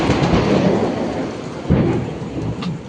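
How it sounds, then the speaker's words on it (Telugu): Loud thunder rumbles through a heavy rainstorm, a steady downpour roaring throughout with a deeper thunder swell breaking in near the middle, no voices present. "వీడియో తీస్తుంటే ఉరుముల మెరుపులు అండి,"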